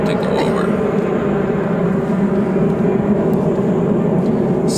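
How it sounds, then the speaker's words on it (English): A jet airplane roars loudly overhead along a flight path near Orlando International Airport, a dense, unbroken rumble that holds steady throughout. "I'm waiting for the jet to go over."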